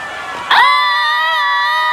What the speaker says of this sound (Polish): dlaczego wszyscy tak wrzeszczą?